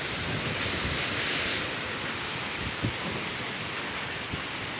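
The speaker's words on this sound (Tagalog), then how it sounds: "Malakas pa yung hangin." Strong wind blows outdoors during a typhoon, roaring as a loud, steady broadband rush that buffets the microphone, with a couple of brief thumps and no voices.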